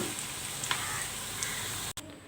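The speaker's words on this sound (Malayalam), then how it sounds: "ബാക്കിയുള്ള പക്കോടയുടെ കൂട്ട് ഇതിലേക്കിട്ട് ഒന്ന് ഫ്രൈ ചെയ്തെടുക്കാം." Egg pakoda batter fries in hot oil with a steady, close crackling sizzle and a few brighter pops, cutting off abruptly near the end before the hiss briefly resumes.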